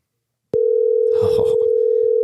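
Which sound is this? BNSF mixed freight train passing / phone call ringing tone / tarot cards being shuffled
phone call ringing tone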